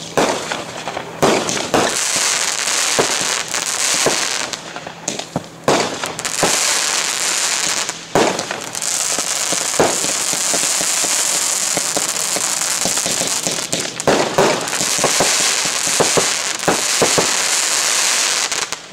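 A family fireworks show, a child's first, with bursts and crackling going off almost continuously for about nineteen seconds, loud and close, punctuated by sharper bangs and no voices.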